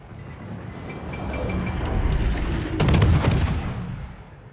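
A warship's gun salvo in World of Warships: Legends booms out as a loud burst of overlapping blasts partway through, rising over a rumbling battle backdrop.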